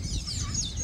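A rooster on a Barbados vacation gives a brief, close clucking call, short and alone.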